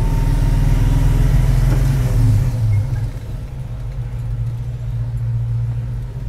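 A 1940 Ford 3-window truck engine pulls loud and rumbling while driving, revs climbing then dropping sharply at a shift, settling into a lower steady drone.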